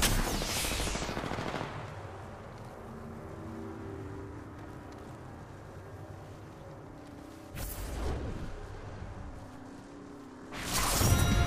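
Bursts of automatic gunfire in the video game Apex Legends crackle in short sharp volleys at the start, middle and end, separated by quieter stretches of game ambience.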